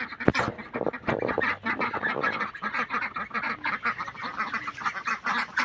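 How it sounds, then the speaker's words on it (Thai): A chorus of farm ducks, about ten, quacking close by, busy overlapping calls in an uneven rhythm with no voices. "นี่เราเลี้ยงเป็ด"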